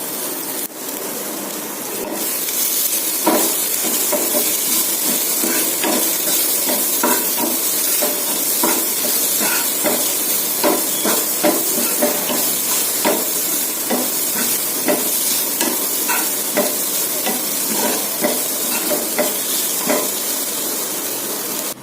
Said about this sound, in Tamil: அரைச்ச தேங்காயை இதில் போட்டு பரட்டி விடலாம்